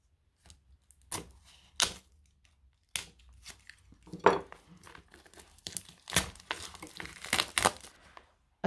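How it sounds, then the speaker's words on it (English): Packaging of a new tarot deck in a pull-out two-part box is opened up close, with scattered crinkles, tearing and soft tapping handling noises separated by short pauses, no speech. "So let's open up this tarot deck."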